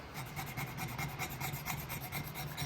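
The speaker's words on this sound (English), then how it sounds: "I picked this up and used it as a card scraper to get rid of my Oh, look at that. rasp marks." A card scraper is drawn repeatedly over a wooden axe handle to remove rasp marks, making a steady, close, rhythmic raspy scraping with quick regular strokes and no talking.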